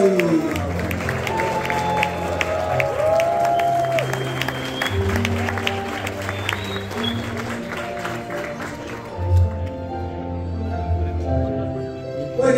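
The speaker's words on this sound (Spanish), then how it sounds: "Buenísimo, fuerte el aplauso" Audience applause and cheering fills a hall as third place is announced at the ArFF 2024 fursuit dance competition awards, a steady wash of clapping that fades out near the end while music plays underneath.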